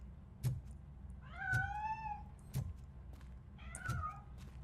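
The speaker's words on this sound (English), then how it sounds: "That cat must be hiding inside." A cat meows repeatedly inside the video game RoboCop: Rogue City, giving three or four drawn-out, wavering cries spaced across a few seconds, with soft thumps and low ambient game sound beneath.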